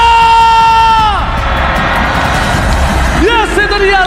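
A packed velodrome arena crowd at an esports final roars with cheers and whoops, loud and sustained, while an announcer's voice rises over the noise at start and end.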